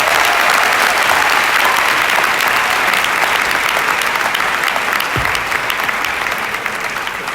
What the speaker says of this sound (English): But I think the VC deserves a better applause.